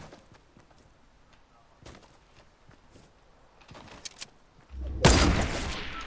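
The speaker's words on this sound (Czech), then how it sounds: "Tam se střílí kdo?" Gunfire in Fortnite: scattered faint shots early on, then a loud burst of rapid gunfire near the end, close and harsh, with no talking over it.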